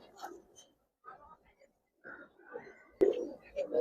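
Giribaz and Silver pigeons cooing in short, soft bursts spread across a few seconds, close by, with someone speaking over them.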